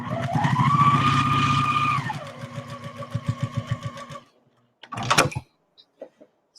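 A sewing machine stitching rows of quilt blocks together, a close whirring run with rising and falling motor pitch, then slower separate stitch thumps, a pause, and a short final burst.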